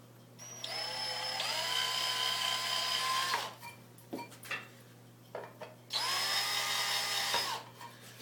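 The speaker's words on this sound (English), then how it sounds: "I just use a bigger drill bit," A power drill with a larger bit whines at high speed for a few seconds while countersinking a hole in a panel sub-plate, stops amid some clatter and handling noises, then spins up again for another burst.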